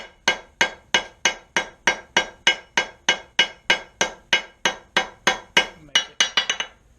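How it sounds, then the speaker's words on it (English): A steel hammer strikes hot steel on an anvil while forging a double hook, knocking down the corners of an octagonal bar in about twenty loud, evenly spaced ringing blows, finishing with a quick flurry of lighter taps. "Now we'll knock the corners of that octagonal cross section"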